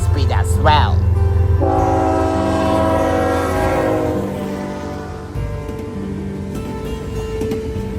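Z100, a freight train led by an X-Series locomotive, speeds past in the fall with a loud continuous rumble and a sustained horn blast, while a voice speaks briefly near the start.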